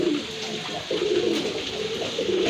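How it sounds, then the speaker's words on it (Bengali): A pair of large pigeons coo continuously and close by, a low, throaty, rolling sound with no talk over it. "বিগ সাইজের এক জোড়া কবুতর।"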